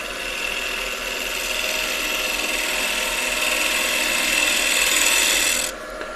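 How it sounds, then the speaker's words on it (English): A sharpened shear scraper works across a live edge oak bowl spinning on a lathe, giving a steady, loud, close rasping hiss that holds for several seconds and then drops off abruptly near the end. "Just smooth this out. You can use that shear scraper"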